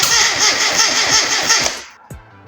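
Classic Mini engine cranking without firing, a fast rhythmic starter churn with pulsing compression beats for about two seconds, loud and close, then stopping abruptly with a short clunk and a faint lingering hum.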